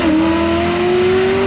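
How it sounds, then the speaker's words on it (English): A Maserati Quattroporte engine revs on a downshift, a loud, steady engine note with a rising pitch and continuous roar throughout, close and alone with no talk. "Unnecessary downshift."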